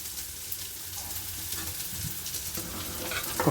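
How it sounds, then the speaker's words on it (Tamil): Steady, soft bubbling and sizzling from chili sambar simmering in a pot on the stove, continuous and close, with no talking. "நல்லா குழம்பு கொதிச்சிச்சு"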